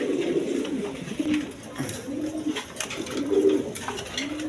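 Pigeons cooing in a coop of domestic and foreign breeds kept for sale, soft repeated throaty coos close by, overlapping in a steady low murmur with some handling noise.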